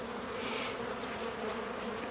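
A dense, steady hum of many honeybees buzzing up close at an open hive, constant and fairly loud with no pauses or voices.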